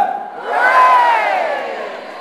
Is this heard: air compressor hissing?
no